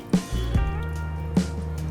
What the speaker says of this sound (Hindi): तो हम इसमें से ऐसा करके पानी निकाल देंगे बाहर